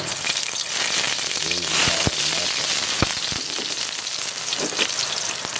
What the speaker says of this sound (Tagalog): Init lang ating kawali. Lagyan natin ating bawang.